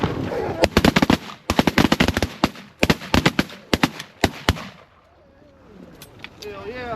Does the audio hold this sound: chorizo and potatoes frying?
no